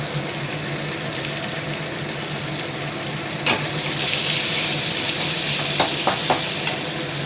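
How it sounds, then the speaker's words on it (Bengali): Onions, tomatoes and spices fry in a pan for a ridge gourd and prawn curry, a continuous close sizzle that grows louder midway, with several sharp utensil scrapes and taps near the end. "অল্প করে পেঁয়াজ দিয়ে দিলাম, লাল লাল করে ভেজে নেব"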